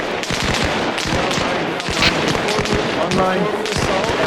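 Sustained bursts of rifle and machine-gun fire crackle through an Arma Reforger squad firefight, dense and loud throughout, with radio-style voices calling out over the shooting.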